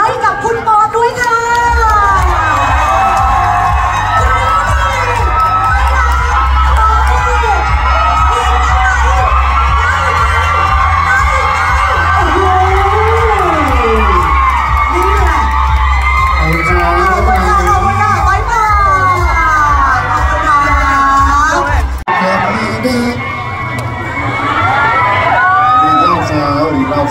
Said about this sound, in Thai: ขอเสียงกรี๊ดและเสียงปรบมือดังๆให้กับคุณปอนด้วยค่ะ